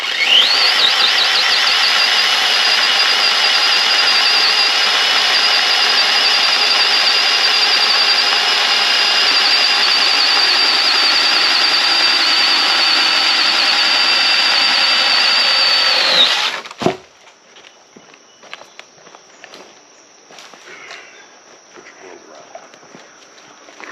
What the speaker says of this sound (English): Now I'm not so sure that this saw's made for this size wood, but you can see that's a 4-inch log.